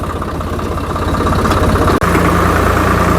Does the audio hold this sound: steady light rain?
no